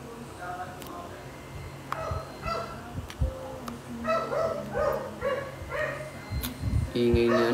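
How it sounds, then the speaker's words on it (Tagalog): A dog barks repeatedly in short yaps, some sharp and close, with a voice talking over parts of it and background noise throughout. "Ingay niya, ano? Tahol ng tahol."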